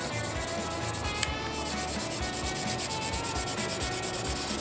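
Steady, continuous rubbing scratches as sandpaper works over the plastic body of a Fujimi Enzo Ferrari model kit, close and even in level with a faint rhythmic back-and-forth and no talking.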